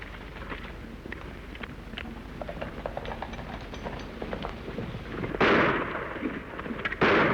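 Gunshots ring out in an old-time Western radio drama, a standoff at a rustlers' hideout by a wagon, sounding as scattered sharp cracks amid a rumbling background, then two louder bursts near the end.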